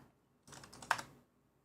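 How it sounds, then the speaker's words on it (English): Quick burst of typing on a computer keyboard, a short flurry of close clicking keystrokes lasting under a second with one sharper key press, quiet before and after. "Type in his name real quick to see what pops up."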